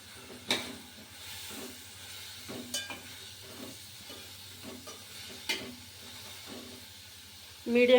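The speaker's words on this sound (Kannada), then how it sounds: "ಶುಂಠಿ ಕರಿಬೇವಿನ ಸೊಪ್ಪು ಎಲ್ಲನೂ ಚೆನ್ನಾಗಿ ಫ್ರೈ ಮಾಡ್ಕೊತಾ ಇದ್ದೀನಿ" Ginger and curry leaves fry in a pan for an egg masala gravy. A soft, steady hiss runs underneath with a few stirring scrapes, while a voice talks over it throughout.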